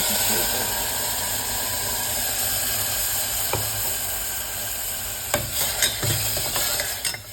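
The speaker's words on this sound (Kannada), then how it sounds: "ನೋಡಿ ಸಣ್ಣ ಕುದಿ ಬಂತು ಈಗ ಸೋಯಾ ಕಾಳುಗಳನ್ನು ಹಾಕ್ಕೊಳ್ತಾ ಇದ್ದೀನಿ" Tomato puree cooks in a pan with a steady hiss and bubbling sizzle throughout, close and loud, followed near the end by several knocks and scrapes of a utensil against the pan.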